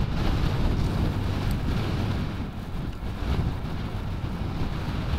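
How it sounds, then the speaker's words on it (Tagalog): Strong wind roars and buffets the microphone in a continuous loud rush, with no voices. "Sobrang lakas talaga nung hangin na yun."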